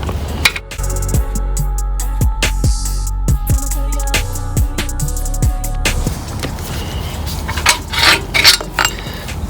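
Metal wrench clinks and ratchety clicks while loosening an engine mount bolt on a CR125 motorcycle, sharp taps in the first six seconds under a steady low hum, then quieter scraping handling.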